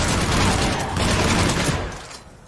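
Dense sci-fi gunfire during a firefight on Omega in Mass Effect 3, a loud continuous burst of rapid shots and impacts that tails off after about two seconds, with no voices over it.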